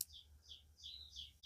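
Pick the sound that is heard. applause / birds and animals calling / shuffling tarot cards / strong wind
birds and animals calling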